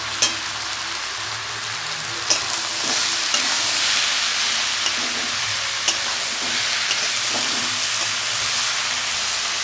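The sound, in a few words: bottle gourd with salt frying and stirred in a pan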